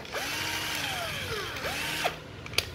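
A used Japanese cordless drill with a reworked variable-speed trigger, 5 clutch settings plus a drill mode and a 10 mm metal chuck, runs on test in repeated whirring bursts that rise and fall in pitch, close and fairly quiet.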